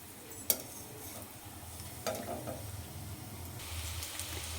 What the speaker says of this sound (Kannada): ಸೊ ಈಗ ಒಂದೊಂದೇ ಎಣ್ಣೆಗೆ ಫ್ರೈ ಮಾಡ್ತಾ ಹೋಗೋಣ